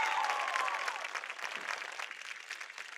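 Warm applause from a sizable crowd at a 2024 high school graduation fills a large room, steady clapping that gradually softens, with a brief tone at the very start.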